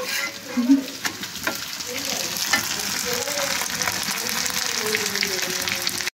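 Paratha frying in a pan: a close, steady sizzle with stirring and scraping, and some faint talk in the background.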